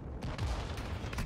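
Gunfire rattles in Call of Duty MW2, a quick run of sharp shots at moderate distance over a short stretch of battle noise, without talk.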